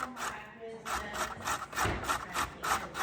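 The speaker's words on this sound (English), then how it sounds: "So I'm going to grate these up for her." Carrots rasped against a grater for carrot cake, a close, rhythmic series of scratchy strokes, about eight back-and-forth scrapes in quick succession.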